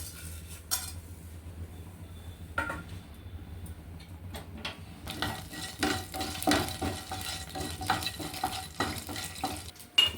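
Chana dal frying in a spoonful of hot oil for a tempering gives a soft, steady sizzle, with frequent light clinks and scrapes of a spoon stirring in the pan.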